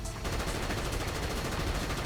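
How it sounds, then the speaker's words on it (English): Gun turrets fire 30mm cannons from a VTOL aircraft in the Baldr Sky video game, a dense, loud, unbroken stream of rapid automatic shots. "Several gun turrets pop out of the VTOL surface and fire their 30mm motor cannons."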